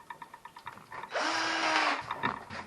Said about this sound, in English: we'll drill the hole first,